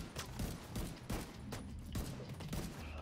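A sniper in The Division 2 fires repeated sharp shots at a fairly steady pace, each crack standing out over a busy background of battle noise.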